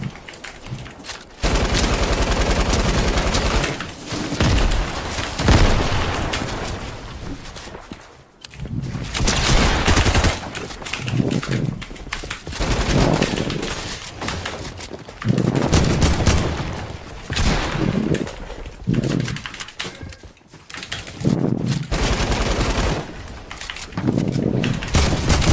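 Dense, nearly continuous gunfire from the Fortnite video game, rapid bursts and volleys with booms running loud for the whole stretch, only brief gaps between barrages and no talk over it.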